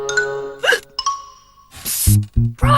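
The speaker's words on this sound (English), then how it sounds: "can you mix up a potion to scare my hiccups away?" Cartoon character Horrid Henry hiccups in a classroom, a few sharp, squeaky voiced hics spaced unevenly among bright chime-like tones and a brief burst of noise, loud and close.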